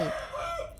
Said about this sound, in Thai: ทุกๆ ครั้งที่เราอ่านไพ่ก็จะมีเสียงไก่ขัน แล้วมันก็จะขันขึ้นเรื่อย ๆ